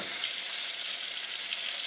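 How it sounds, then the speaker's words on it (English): Water runs in a steady, close hiss from a repaired Delta single-handle faucet, with no other sounds. "The water's back on and it's not leaking."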